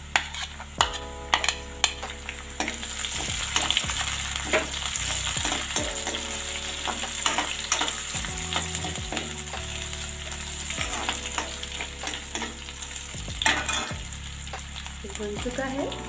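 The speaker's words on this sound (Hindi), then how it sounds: "और इसी में हम ये अदरक और हरी मिर्च को भी ऐड कर देंगे।" Ginger and green chili fry in oil for dal makhani, a loud, close, continuous sizzle with frequent spoon clinks and stirring scrapes against the pan, with no one talking.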